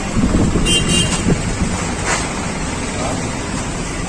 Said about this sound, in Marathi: खूप वारा सुटलाय